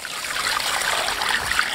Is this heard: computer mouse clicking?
no